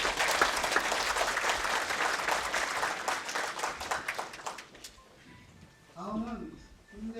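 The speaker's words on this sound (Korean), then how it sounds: "박수 한번 부탁드리겠습니다." Audience applause at a commemorative academic conference, dense clapping for about five seconds that stops abruptly, followed by someone speaking.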